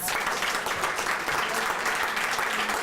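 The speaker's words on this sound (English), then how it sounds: "Let's give them another round of applause." Audience applause at a Black history proclamation ceremony in Pittsburgh, a dense and continuous wash of many hands clapping throughout, evenly loud and alone.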